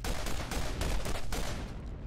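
An alien sniper rifle fires in the video game Borderlands in a dense, rapid burst of booming shots with no pause between them, loud and close.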